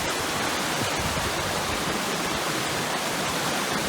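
Rushing water roars in a steady, dense wash of noise, like a nearby waterfall pouring without a break, at the Fairy Pools on the Isle of Skye.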